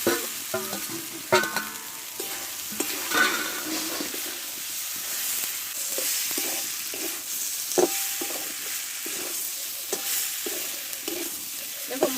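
Vegetables being stir-fried with spices and a little sugar in a pan, a steady sizzle and hiss with intermittent scraping and stirring clatter throughout, no voices.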